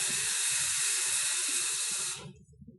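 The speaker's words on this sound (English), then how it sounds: "I'm going to use tap water." Tap water pours into a container, a steady bright hiss of running water for about two seconds before it cuts off, with low knocking thumps underneath and a faint trickle as it stops.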